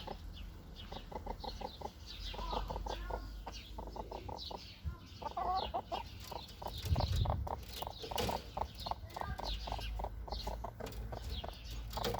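Several chickens cluck in quick, repeated bursts nearby, a busy henhouse chatter running throughout with occasional louder squawks.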